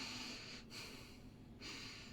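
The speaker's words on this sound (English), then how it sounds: "when you breathe in and out in a meditation through your nose" Slow breaths drawn in and let out through the nose during meditation, each a soft, close, steady airy rush, with two brief pauses between breaths.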